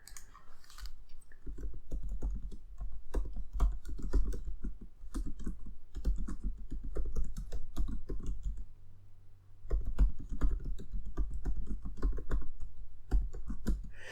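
Steady, close clatter of keys as a comment is typed on a computer keyboard, rapid irregular taps running continuously with one brief pause midway, no voices.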